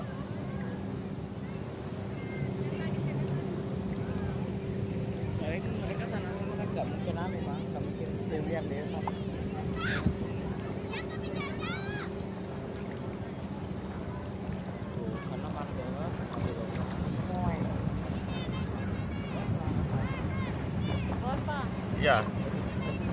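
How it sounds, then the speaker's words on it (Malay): A motorboat engine drones steadily off Nambo Beach, a constant low hum with a faint tonal whine, while wind buffets the microphone and people talk over it throughout. "Ini satu motor boot lagi."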